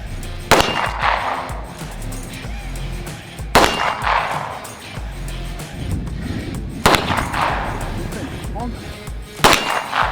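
Gunfire at an outdoor shooting range aimed at paper targets, with four sharp loud shots spaced several seconds apart over steady background noise and ambient rumble.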